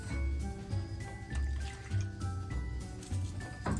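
Wet sloshing and dripping as a Mason Pearson hairbrush swishes around in water, close and fairly quiet, in short repeated strokes.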